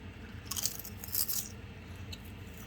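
Crisp crunching bites of a kale chip close up, a few sharp crackly bursts followed by quieter chewing over a low background rumble.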